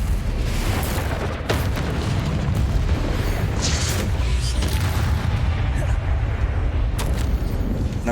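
Repeated booming fire-spell blasts from Confringo casts in the video game Hogwarts Legacy, dense and loud throughout with crackling bursts layered over heavy low rumble, with game speech mixed in.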